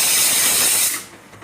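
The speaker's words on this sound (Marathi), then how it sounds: "ते भात लावल्यानं कुकरने तर शिट्ट्या मारते." A kitchen pressure cooker, cooking rice, releases steam in a loud, sustained hissing whistle that stops abruptly about a second in, leaving faint room noise.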